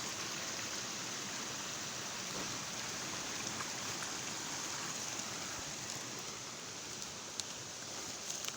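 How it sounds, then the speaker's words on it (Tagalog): A mountain stream in a cool forest park flows with a steady, dense rush that never lets up, close and even throughout, with no voices. "Ganda yung sapa guys."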